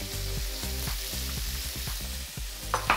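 Beef frying in a pan, close and steady, with a soft continuous sizzle and the rhythmic scrape of stirring repeating about twice a second, followed by a brief louder clatter at the end.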